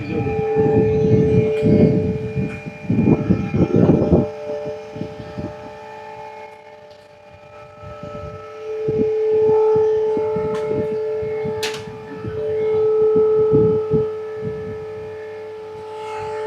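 Avro Vulcan bomber jet engines running, heard from right underneath the aircraft: a loud, steady tonal whine over deep rumbling that surges in heavy bursts early on, with no talking.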